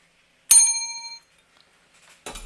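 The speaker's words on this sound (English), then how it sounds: "where's the failure bell?" Failure bell struck once, a single bright ring that decays over about a second, followed by a brief clatter at the end.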